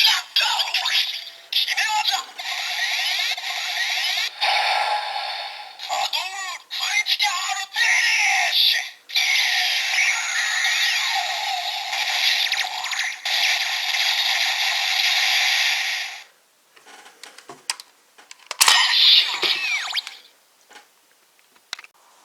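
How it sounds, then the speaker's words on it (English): A DX Taddle Legacy Gashat toy plays its electronic critical finish through a Gashakan Sword toy: a long, loud, continuous stretch of bright synthesized sound and announcer voice, then sparser bleeps before it fades. "Then we can use the Gashakan Sword for the critical finish."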